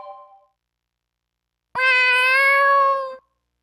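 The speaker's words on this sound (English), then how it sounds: "Is that your cat?" A cat in the video game Tales of Xillia 2 gives a single clear, drawn-out meow, loud and close, after a faint short chime and a moment of silence.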